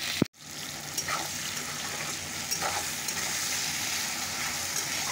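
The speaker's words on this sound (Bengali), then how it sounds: "পেঁয়াজটা অল্প ভাজা হয়ে গেছে।" Onions and tomatoes fry in a pan with a steady, fairly loud sizzle, joined by occasional light stirring scrapes and a sharp clatter right at the start.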